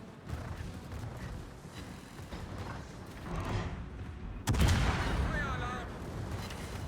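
Secondary guns aboard the heavy cruiser Zara fire in a World of Warships naval battle, a steady rumble of gunfire and mechanical din that jumps into a louder, sharper blast partway through and stays heavy afterward.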